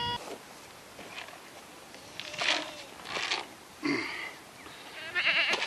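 Goats gather at a handful of feed, with several bleats rising at intervals over soft shuffling and rustling close by, fairly quiet overall.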